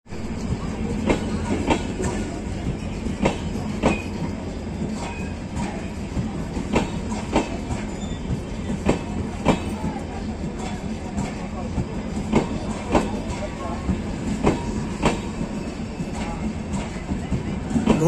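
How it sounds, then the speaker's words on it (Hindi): A delayed Mau–Anand Vihar Express rolls into platform 4 at a station, its wheels clacking over rail joints in a steady rhythm beneath a constant low rumble, with a faint background voice. "मऊ आनंद विहार एक्सप्रेस सात घंटे की लेट से प्लेटफॉर्म संख्या 4 पे अराइव कर रही है"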